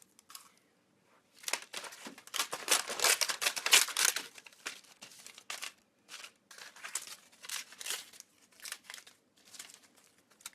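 Scissors snip through a thin edible glitter sheet in close, crisp bursts of rustling cuts and crinkles, several quick runs separated by short pauses.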